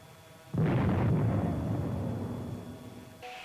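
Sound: armored vehicle exploding from missile hit

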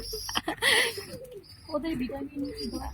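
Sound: pigeons cooing while resting

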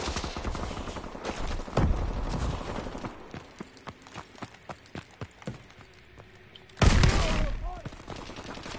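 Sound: shotgun firing in Call of Duty Advanced Warfare video game

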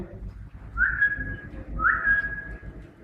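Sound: whistling command to a dog

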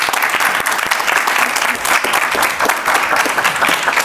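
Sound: applause from studio audience

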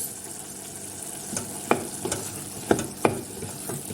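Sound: lentil soup boiling in a pot

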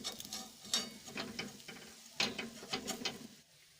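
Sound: handvo being flipped over in hot pan, sizzling

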